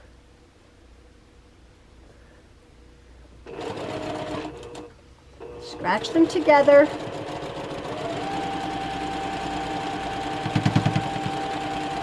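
Sewing machine stitching a quarter-inch seam on a quilt block, humming steadily and thumping briefly as it crosses a seam intersection, with someone talking over the motor.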